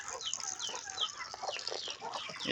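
Chickens and a rooster clucking and squawking on a small farm, several overlapping birds calling close by in a busy, continuous chatter with no talking.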